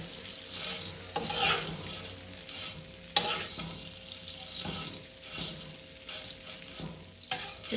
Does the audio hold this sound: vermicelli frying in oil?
yes